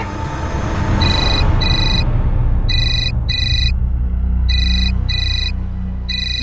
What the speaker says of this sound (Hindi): ऑफिस से फोन है